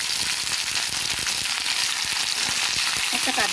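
Cauliflower, potato, spring onion and carrot fry in hot oil with whole garam masala, cardamom, cinnamon and clove, giving a steady, loud, dense sizzle throughout with occasional soft clicks of stirring.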